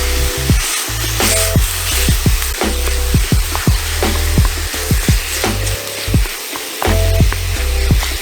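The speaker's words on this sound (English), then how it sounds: "Got a nice little meat smasher here, and let's break this down." Italian sausage sizzling loudly in a frying pan while a meat smasher repeatedly scrapes and chops through it, a busy rhythm of close, gritty strokes over continuous frying hiss.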